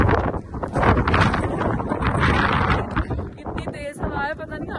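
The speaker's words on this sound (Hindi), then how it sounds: "हवा बहुत तेज है, बहुत तेज हवा है।" Strong outdoor wind buffets the microphone in a loud, continuous low rumble with gusty surges throughout, while a voice talks over it near the end.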